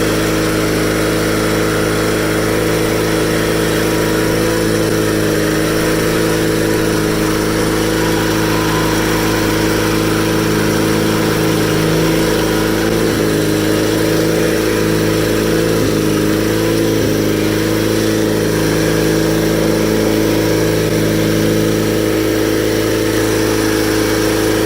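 Customized Cub Cadet 782 garden tractor engine running steadily while driving, a loud, close, continuous mid-pitched drone with a slight uneven chug throughout and no talk.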